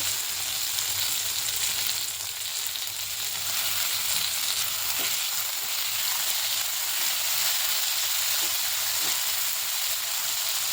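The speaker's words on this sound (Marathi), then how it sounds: "आता त्यात टोमॅटो टाकून घेते" Chopped tomato sizzling in hot oil in a frying pan while cooking a bean curry, a loud continuous crackling hiss with a few soft stirring knocks and no talking.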